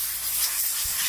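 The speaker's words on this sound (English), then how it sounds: "we'll blow all the dust off it, get all the whatever else is in there" Compressed air blasts dust and grime off a gun stock, making a steady, loud, close hiss that runs unbroken through the short moment with no speech.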